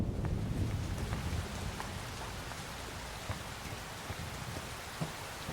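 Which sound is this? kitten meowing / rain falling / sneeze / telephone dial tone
rain falling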